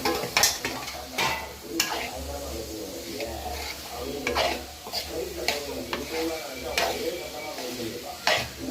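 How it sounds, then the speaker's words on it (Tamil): Field beans stirred and fried in chili oil in a pan give a steady sizzle with a low hum, broken by repeated scraping and clinking strokes of a spoon against the metal. The cooking noise is close and fairly loud, and no one speaks. "இந்த ஸ்டேஜில் நம்ம மொச்சக்கட்டையை சேர்த்துடலாம்."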